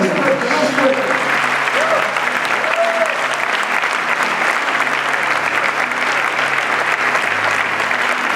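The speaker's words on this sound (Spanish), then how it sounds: "Dale un aplauso al Espíritu Santo." Loud, sustained applause from a church congregation fills the room without a break, with scattered voices mixed into the steady clapping.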